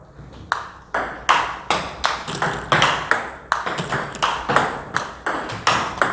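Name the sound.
table tennis ball hits during topspin drive practice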